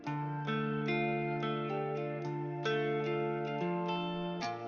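Sustained, smeared guitar notes with soft swelling attacks float in a slow melodic pattern, a reversed guitar layer pitched up an octave and washed in reverb for a beat; steady, even level, no voices.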